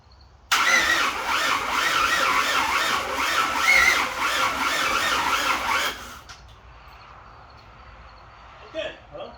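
A car engine cranks steadily for several seconds with a rhythmic, labouring whir that never catches, then cuts off abruptly, leaving near silence and a faint clatter.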